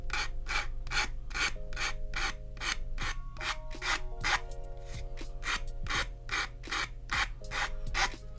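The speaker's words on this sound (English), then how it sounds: "With the different levels of filing." Repeated rasping strokes of a hand file removing flash from a Polar Lights 1:1000 scale plastic model kit of the USS Defiant, a steady close rhythm of about two strokes per second with no talk.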